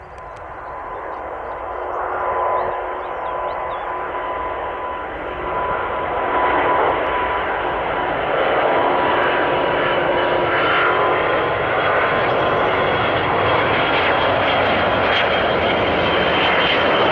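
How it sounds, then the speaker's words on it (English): An Airbus A350 takes off on only one working engine during a simulated engine-failure test at the Airbus factory, giving a loud, sustained jet roar that swells over the first seconds and then holds steady with no voices. "This Airbus A350 is struggling to take off as it only has one functioning engine and half its usual power."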